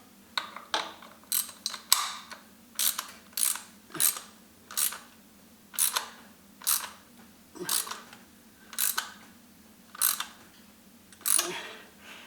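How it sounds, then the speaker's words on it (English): Ratcheting clicks from an oil filter wrench snugging the oil filter on a Harley-Davidson Dyna, coming as about a dozen short, close, evenly spaced bursts with no talk. "You slide your filter wrench back on."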